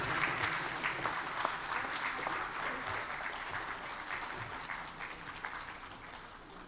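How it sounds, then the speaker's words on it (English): An audience at an Asian summit applauds the organizing team, a continuous field of clapping that is fairly distant and gradually fades over several seconds. "to kindly put a round of applause for the team that was really, really worked hard"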